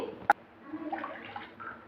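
Water poured into a kadai pan while preparing rice flour pooris: a brief sharp knock, then a soft, uneven splashing flow, close and fairly quiet.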